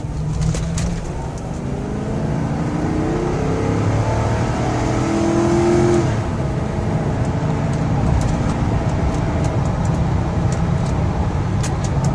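A Ford Crown Victoria's 4.6 V8 engine revs up hard at wide open throttle and roars loudly, its pitch climbing as it accelerates, with a few bird chirps in the background.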